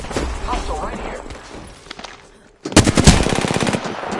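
Rapid automatic gunfire from Apex Legends rattles out loud and close, a fast machine-gun burst following muffled in-game action and a short pause.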